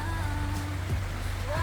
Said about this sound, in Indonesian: Nih hujan lagi guys.